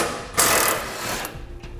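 Ratchet wrench working a 13mm frame bolt on a 2012 Ford F-250 diesel truck, a quick burst of close metallic ratcheting clicks followed by a few softer clicks.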